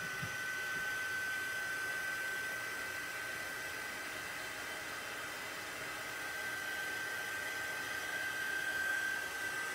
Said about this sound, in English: We're going to take our heat tool and dry it out.